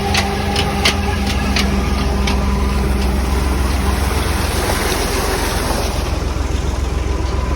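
A tractor engine drives a water pump to irrigate fields after a tubewell failed. The engine makes a steady, loud, continuous drone, with rushing water noise layered over it throughout.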